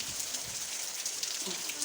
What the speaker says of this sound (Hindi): इस बारिश में ही बारिश कम ही नहीं हो रहा है